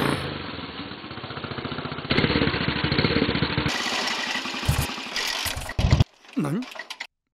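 A small Honda motorcycle engine, bored up to 220cc with a short-stroke design, runs and revs loudly with a buzzing, uneven note, its pitch rising and falling and dropping out near the end.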